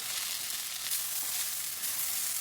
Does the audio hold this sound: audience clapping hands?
no